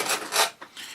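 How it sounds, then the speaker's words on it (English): A small sanding block rasps against the end of a model part, three or four quick back-and-forth scrubbing strokes, close and dry, with no talk. "let me get my little sanding block"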